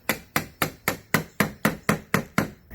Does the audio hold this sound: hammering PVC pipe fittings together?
yes